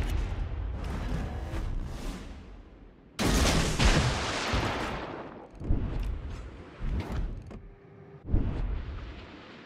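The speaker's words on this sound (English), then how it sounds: "Concentrate fire on the enemy warship." Warship guns fire in World of Warships: Legends, a loud broadband blast at about three seconds followed by several rumbling shots and bursts over a low background rumble, with no voices.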